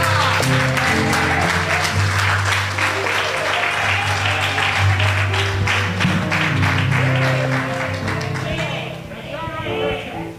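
A church congregation claps through a revival service, dense applause over sustained organ or keyboard chords and voices, tapering off near the end.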